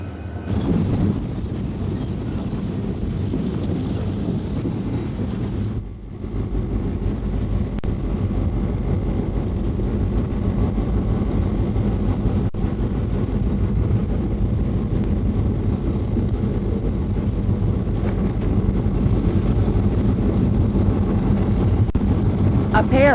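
GP40A diesel locomotives of 3,000 horsepower each haul a freight train, a continuous low engine rumble and drone that stays steady and fairly loud throughout, with a narrator speaking over it.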